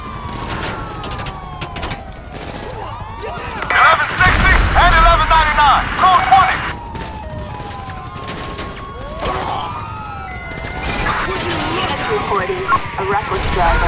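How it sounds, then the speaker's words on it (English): Gunfire during a five-star police chase on the freeway in Grand Theft Auto V, a burst of rapid shots mixed with wailing police sirens, engine noise and a voice speaking. "Units reporting shots fired at an officer"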